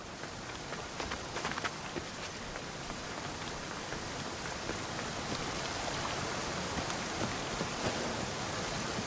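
A waterfall in the video game Assassin's Creed Odyssey gives a steady, full roar of rushing water. It holds an even loudness throughout, with no voices.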